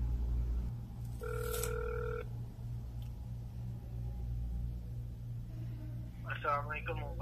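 A telephone call rings out unanswered, a single ringback tone burst over a steady low hum, followed by brief muffled speech-like sounds toward the end.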